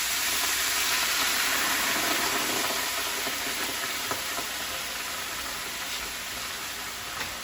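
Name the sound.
vinegar poured over sizzling pork chops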